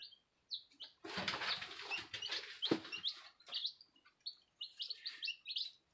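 Gold-laced and buff red-laced Wyandotte chicks in a brooder give high, thin peeping chirps in quick clusters, with a burst of rustling and scuffling partway through, close by and with no talk.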